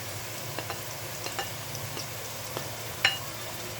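Ginger and green chili frying in a pan, a steady soft sizzle throughout with faint stirring clicks and a brief sharper scrape near the end.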